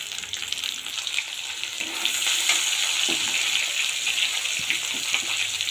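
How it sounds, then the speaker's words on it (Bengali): Chopped onion with tomato fries in a pan, a continuous bright sizzle that swells a little louder partway through and carries on steadily with no talking. "পেঁয়াজ হালকা ভাজা হয়ে গেছে বন্ধুরা, এখন দেব যে টমেটো কুচি"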